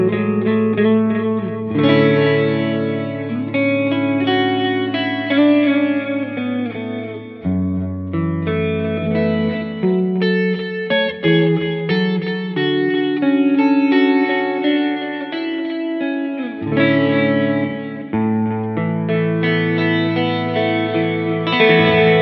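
Clean electric guitar picking arpeggiated chords, bathed in spacious plate reverb with a shimmering, chorus-like sheen, played steadily and alone.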